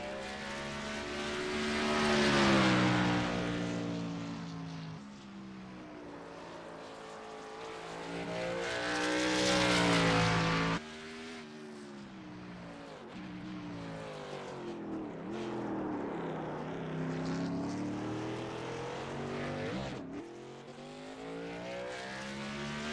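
The number 94 race car driven by Jerry Glenn passes on a track lap, engine drone swelling loudly as it nears and fading away, then rising again for a second pass before receding into a long, wavering distant whine.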